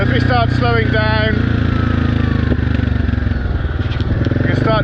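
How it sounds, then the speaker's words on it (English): Yamaha Grizzly 700 ATV engine running loud and close while slowing, with faint popping and crackling from the exhaust pipe under a continuous engine drone; someone talks over it at the start and end. "you can start hearing this exhaust pipe popping and crackling"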